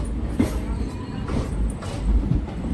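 Steady rumble of a moving train with rhythmic clacking of wheels on the rails, heard from inside a carriage.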